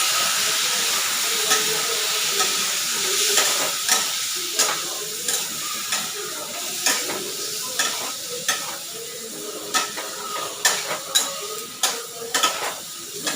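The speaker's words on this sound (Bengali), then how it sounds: "একটু কষিয়ে নেবো আরামসে, একটু গ্যাসটা কম করে দিলাম।" Spices simmered with water in a pan give off a hissing sizzle. A spatula scrapes and clacks against the pan in a repeated stirring rhythm, growing brisker and louder toward the end. No one speaks.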